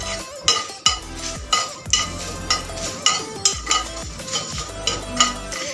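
Whole fennel and coriander seeds dry-roast in a pan, stirred with a utensil that clinks and scrapes against the metal in a steady repeating rhythm, with faint rustling of seeds between strokes.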